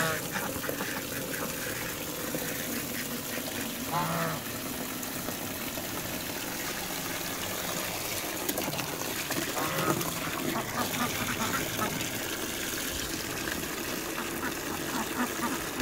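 Ducks quack beside a small village pool being filled by a motor pump with fresh water, scattered calls rising over a steady rush of pouring water and engine hum, fairly distant and low in level.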